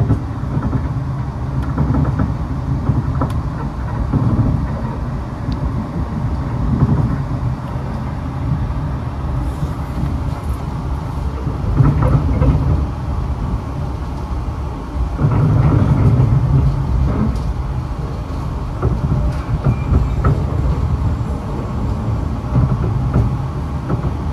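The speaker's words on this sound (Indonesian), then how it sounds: "Ini momen yang ditunggu-tunggu adalah disusul kereta Argo Lawu." An Indonesian train, the Argo Lawu, rumbles past at a distance, its low roar swelling and fading in waves over a steady background, with no talking.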